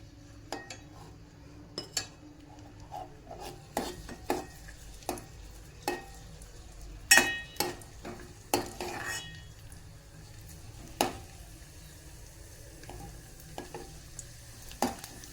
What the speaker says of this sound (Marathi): सुकामेवा तुपामध्ये भाजून घ्यायचा आहे.